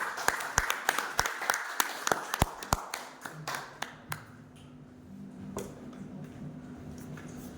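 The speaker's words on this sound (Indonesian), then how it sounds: "Mari kita beri aplaus." Audience applause at a positive school culture dissemination session at a junior high school, SMP Negeri 2, with scattered sharp claps fading out into quiet room hum.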